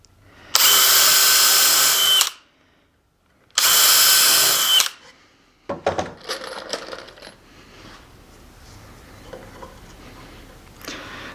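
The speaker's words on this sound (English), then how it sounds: "Now I'm going to install 2 more screws." A power drill drives screws into pallet wood for a Christmas tree, with two loud, close whirring runs of over a second each, separated by a pause, followed by clattering handling and knocking of the wood.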